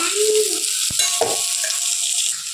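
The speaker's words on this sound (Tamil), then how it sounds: "பாருங்கள் வெங்காயம் நல்லா வதங்கட்டும்" Onions sauté in oil with fennel seeds, a steady close sizzle with a couple of sharp knocks and scrapes from stirring the pan.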